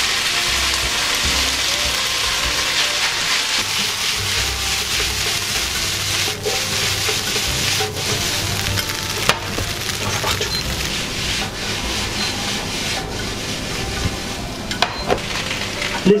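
Onions and spätzle fry and sizzle in a pan with a steady hiss, accompanied by scraping and stirring of a utensil against the pan and occasional sharp clicks.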